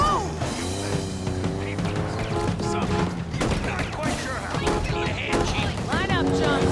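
Rapid gunfire in a sci-fi shooter video game, crackling volleys layered under excited shouting voices and other game noise throughout.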